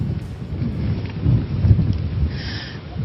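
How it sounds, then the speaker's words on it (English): A storm in Newcastle sends steady rain hissing down while deep thunder rumbles and swells underneath, loud and continuous with no voices. "Newcastle and the Central Coast are expected to bear the worst of the storm this evening."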